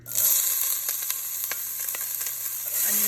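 Onion fries in olive oil for a vegetarian okra gumbo curry, giving a steady bright sizzle with a few soft stirring taps against the pan throughout.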